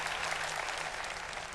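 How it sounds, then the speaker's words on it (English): An audience gives a standing ovation, a dense, sustained burst of many hands clapping, steady and fairly close with a faint murmur beneath it. "the audience claps in a standing ovation"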